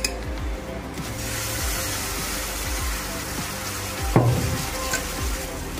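Sugar-coated food frying over medium-low heat in a little hot oil in a pan, a steady crackling sizzle throughout with a louder splash near the end, a voice talking faintly underneath.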